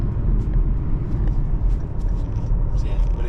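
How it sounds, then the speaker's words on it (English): Porsche Panamera driven on the road, heard as a close, loud, steady low rumble of engine and road noise filling the cabin, with faint higher clicks over it. "Scott's just driving the Panamera"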